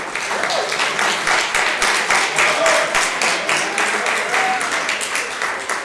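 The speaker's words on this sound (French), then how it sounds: "Je propose qu'on applaudisse le professeur Damom." A university audience applauds a professor with close, loud, rhythmic clapping that runs steadily for several seconds, with some murmured voices mixed in beneath.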